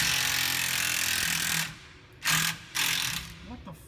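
A 1/4 inch impact wrench spins out the bolts holding a condenser, a loud continuous buzzing rattle that stops, then returns in two short bursts, heard up close in a workshop.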